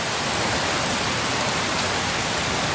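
Heavy rain pours down in a dense, loud, unbroken hiss across every moment, with no other sounds standing out.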